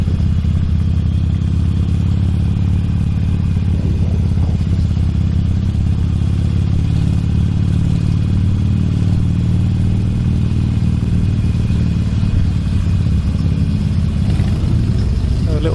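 Motorcycles idle and rumble together at an outdoor bike meet, making a constant, loud low engine drone that fills the whole stretch with mechanical clatter, while a person talks over it.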